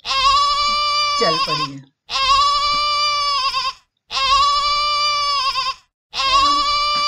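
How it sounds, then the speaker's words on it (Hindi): A goat bleats loudly and close by in four long, wavering calls separated by short pauses, with a brief spoken phrase under one of them. "इस तरह बकरी मैं कर वहां से"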